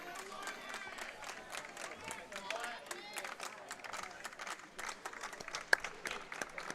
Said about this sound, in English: Dugout cheering on Ryan.